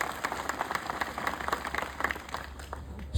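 A crowd at an outdoor farmers' rally over electricity-pole compensation claps in a fairly soft, steady patter of many hands heard from a distance.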